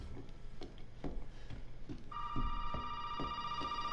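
In the Resident Evil 7 video game, soft rhythmic thuds tick along before a telephone begins ringing with a steady electronic tone that continues to the end, moderately loud over a low ambient hum.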